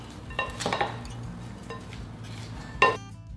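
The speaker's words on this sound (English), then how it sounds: "And then finish mixing it all together." Steak fajita ingredients and seasoning are tossed in a bowl, with scattered clinks and scrapes of a utensil against the dish and a sharper knock near the end.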